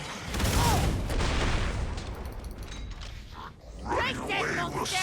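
TommyBoom gun firing in the video game Killing Floor 2, a dense burst of loud shots and booms mixed with game clatter and voices, fading slightly mid-clip before another loud surge.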